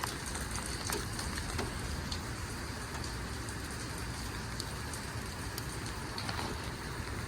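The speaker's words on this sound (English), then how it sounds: "Rain is starting to slow down." Steady rain falls throughout a thunderstorm, a dense even hiss with scattered sharper drop ticks, close and constant with no voices.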